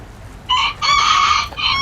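A pet chicken lets out loud, harsh crowing screeches close by, a short burst followed by a longer sustained squawk and another call at the end, with no talking over it.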